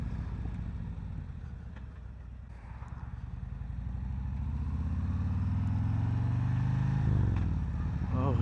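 A 2021 Harley-Davidson Road Glide motorcycle engine rumbles on the move, its low throb building and growing louder as it accelerates.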